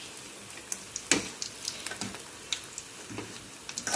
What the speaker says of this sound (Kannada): ತಿರುಗಿಸಿ ಹಾಕಿದ ಮೇಲೆ ಮೀಡಿಯಂ ಉರಿಯಲ್ಲಿ ಬೇಯಲಿ ಒಳಗೆಲ್ಲ ಬೇಯಬೇಕು